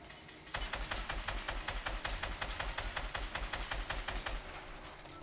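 Automatic weapon fire in Fortnite, a long unbroken burst of rapid, evenly spaced shots lasting several seconds, loud and close, with no talk over it.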